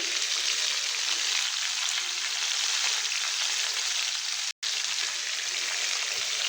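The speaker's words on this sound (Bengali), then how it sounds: "এবার নুনটা দিয়ে ডাটাটা একটু ভালো করে নাড়িয়ে চাড়িয়ে দিব যাতে নুনগুলো সব ডাটার সাথে মিশে যায় ভালো মতো" Stalks cooking with mustard paste and dried chela fish hiss in a hot pan, a loud continuous close sizzle with a brief cut partway through.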